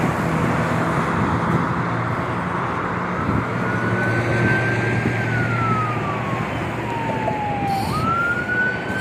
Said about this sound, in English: So the emergency vehicle is coming.